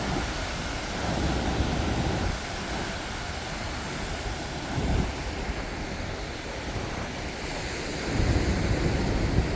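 Sea waves surging and breaking below the walls of Diu fort on the coast, a continuous close roar of surf with gusts of wind buffeting the microphone.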